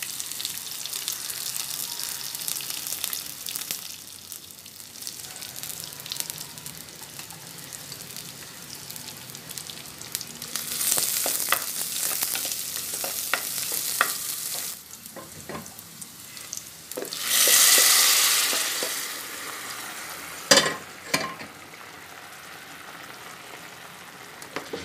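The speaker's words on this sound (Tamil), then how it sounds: "கடுகு, சீரகம், வெங்காயம், வெள்ளைப்பூடு, கருவேப்பிலை அதெல்லாம் போட்டு வதக்கிக்கொள்ளணும்." Mustard seeds, cumin, onion, garlic and curry leaves sauté in hot oil for a Sri Lankan dish, a soft sizzle and frying hiss broken by louder bursts of sputtering, stirring and running tap water.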